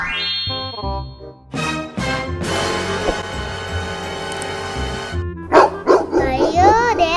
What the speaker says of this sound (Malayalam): അയ്യോ, ദേ പട്ടിക്കുട്ടി വലിയ പട്ടിക്കുട്ടി.